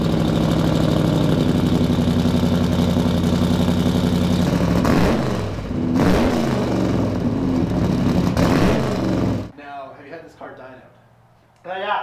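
A loud, rumbling 1970 Plymouth 'Cuda restomod idles and revs with a deep, throaty exhaust, then cuts off abruptly, leaving faint talk in the background.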